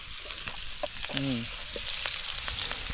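A pan sizzles steadily during a riverside cook-out, with scattered clinks and stirring knocks, and brief voices talk over it.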